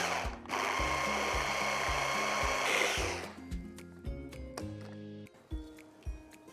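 A kitchen blender whirs loudly for about three seconds, pureeing eggplant with yogurt, sumac, lemon juice, salt and pepper, then cuts off, leaving faint clicks and clatter of the jug being handled.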